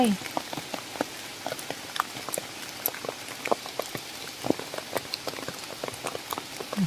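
Heavy rain pours outdoors while mushrooms are gathered, with dense pattering and distinct drips striking nearby surfaces all through, and a faint voice now and then.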